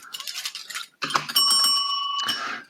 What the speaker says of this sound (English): I don't know where my bell is.